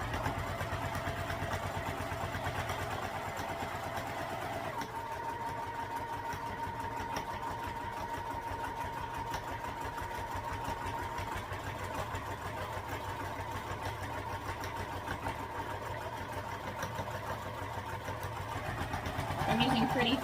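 Sewing machine running a continuous top stitch on fabric, a steady mechanical hum with rapid, regular needle clatter, close and fairly loud, with a brief change near the end.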